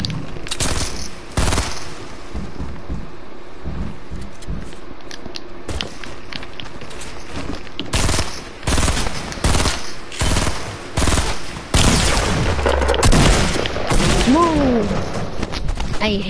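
Video game gunfire, shots from a gun that sits between a pump and a tactical shotgun in a solo match, crack out in irregular bursts with loud broadband blasts, while a player talks over part of the action.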